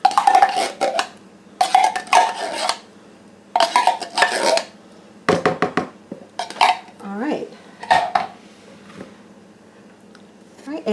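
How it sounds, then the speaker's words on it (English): Metal spoon scraping and scooping cream of mushroom soup out of a can: repeated rhythmic clinks and scrapes against the tin in short bursts, close and clear, with a soft wet squelch between strokes. "This is a can of cream of mushroom soup. I just want to use a spoon and get that out."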